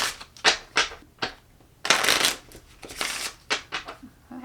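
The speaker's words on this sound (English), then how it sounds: "So let's shuffle our deck" A deck of cards being shuffled by hand at close range, with a series of crisp riffling bursts of varying length and short pauses between them.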